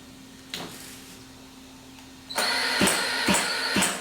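An FID electric onboard starter mounted on a Zenoah G320 engine: a brief whir and click early on, then a loud buzzing crank that runs on with rhythmic pulses toward the end.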